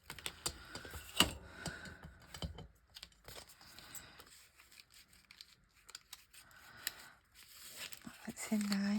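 Tracing paper being torn off by hand, giving short crisp rips and rustles at close range, with quiet pauses and a person talking softly in between.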